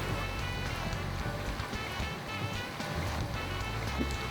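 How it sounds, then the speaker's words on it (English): Cheese balls deep frying in hot oil over a low flame, a dense, steady crackle and sizzle of bubbling oil, close and continuous throughout. "After the oil is hot enough, put the cheese balls in the oil. And evenly deep fry them."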